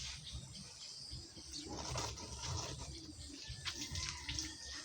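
A tap runs while hands are washed before a meal, producing a soft, steady splashing stream with gentle gurgles and light bursts of water, fairly quiet and with no talking.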